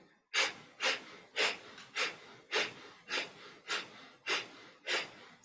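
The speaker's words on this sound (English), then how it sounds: "We're going to start the breath of fire." Breath of fire in a yoga class, a steady train of about nine forceful, evenly spaced nasal exhalations, close and clear with brief silences between them.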